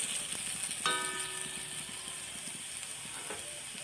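Potatoes with garlic paste sizzle in a wok after the lid is lifted, a steady frying hiss broken by clinks and scraping strokes of a spatula stirring them.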